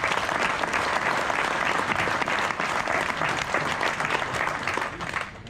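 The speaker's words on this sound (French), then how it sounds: "qu'on applaudit." A crowd at a mayor's New Year reception applauds a factory director receiving a medal, continuous dense clapping filling the room, even and loud throughout before easing at the end.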